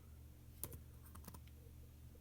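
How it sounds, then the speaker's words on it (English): Quick typing on a computer keyboard, a few soft scattered key clicks with a short burst in the middle, quiet and close over a faint steady background hum. "I'm going to start typing audio."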